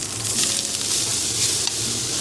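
Meat fries in a pan with garlic, giving a steady, bright sizzle that runs throughout at close range, with no talking.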